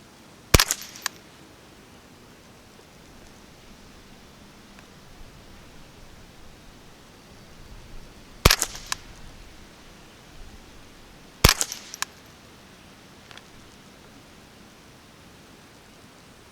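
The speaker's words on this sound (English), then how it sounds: "So this time we're going to go for the we're going to shoot the leftmost red target." A Ruger 10/22 rifle firing CCI Quiet .22 ammunition at a 25-meter target, three separate sharp, fairly soft cracks spaced several seconds apart, each followed by a brief faint tap, over a quiet outdoor hiss.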